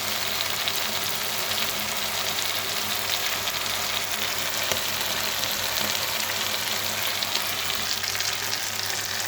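Chili paneer sautés in hot oil in a pan, giving a loud, continuous sizzle that holds steady throughout with no talk.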